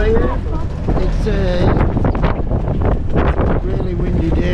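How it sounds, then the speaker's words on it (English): Strong wind buffets the microphone in loud gusts, with a rushing roar over high waves from the deck of a cruise ship at sea and voices faintly underneath. "a really windy day, that's the problem. High waves"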